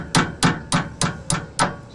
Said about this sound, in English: tap this thing through.